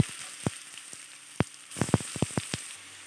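Chopped bottle gourd crackling in hot oil over fried tempering spices, with sharp pops and spits scattered irregularly over a quiet background hiss.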